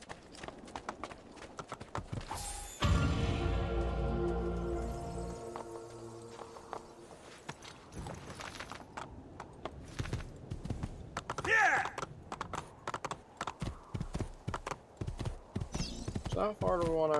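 Video game horse hooves clip-clop in an uneven walking rhythm alongside creaks and a brief resonant tone, with people talking over parts of it.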